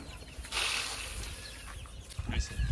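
Desi chickens on a rooftop cluck briefly and softly while eating scattered paddy, with rustling and scratching close by.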